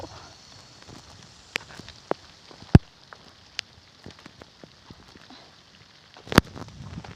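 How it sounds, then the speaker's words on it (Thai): Rain arriving over a mountain garden where wild fern shoots are gathered, with scattered drops tapping irregularly on nearby surfaces, a few sharper close hits standing out against a soft, quiet background. "ฝนมาแล้ว"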